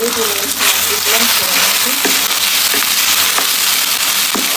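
Ginger, garlic, cumin and dried chilies sizzle loudly in hot oil in a pan, a steady close crackle with occasional sharper pops and stirring clinks throughout.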